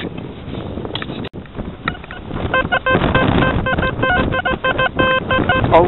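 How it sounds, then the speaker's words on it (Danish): Strong wind gusting outdoors while rain begins during a metal-detecting outing, roaring and buffeting the microphone in uneven surges, with a clatter of handling noise and scattered beeping tones partway through. "Og det blæser helt vildt."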